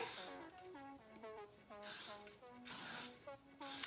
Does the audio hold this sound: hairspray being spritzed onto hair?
yes